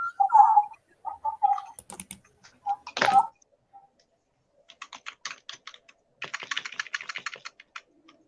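Typing on a computer keyboard: a few scattered knocks and clicks first, then two dense bursts of rapid, close keystrokes, with no talking.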